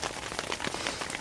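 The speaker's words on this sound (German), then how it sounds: "ich hoffe mal, dass der Regen langsam mal nachlässt" Rain falls on a tent in dense, steady patter, countless drops tapping the fabric close by with no voices.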